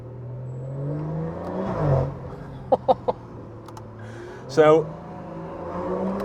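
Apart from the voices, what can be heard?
BMW M140i engine accelerating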